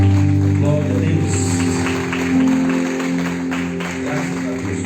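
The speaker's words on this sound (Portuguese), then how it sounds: "Vamos aplaudir o Senhor" A church congregation applauds during a worship service, a steady wash of clapping mixed with sustained music and voices throughout.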